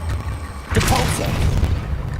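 A Depulso spell fires in the Hogwarts Legacy video game with a deep booming blast that rises and holds, low rumbling over a spread of brighter magical shimmer, loud and close.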